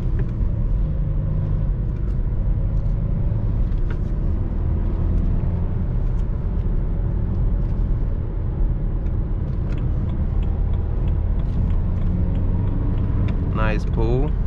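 BMW 320d E92 coupe with a 177 hp diesel and six-speed manual gearbox accelerating on city roads, a steady close engine rumble and road noise running throughout with a brief voice near the end.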